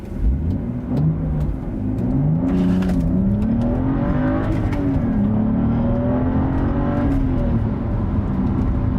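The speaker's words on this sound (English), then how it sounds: "So I'll just give it like a a mild go here." A 2013 BMW 335i with a six-speed manual and N55 engine accelerates hard from a launch, its engine note climbing loudly through the revs with brief dips at gear changes, close and continuous.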